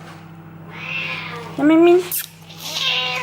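A cat lets out a few meows, one loud and drawn-out in the middle, while someone speaks softly nearby.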